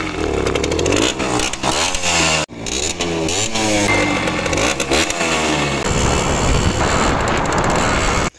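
Small two-stroke engine of a Simson motorcycle running loud and close, with repeated throttle blips and revs rising and falling, a brief cut near the middle, then settling into a steadier rough idle.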